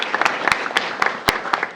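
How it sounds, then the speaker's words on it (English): Short burst of audience applause at a school board meeting, a crowd clapping with a few loud, sharp nearby claps in a steady rhythm. "a round of applause for them as well"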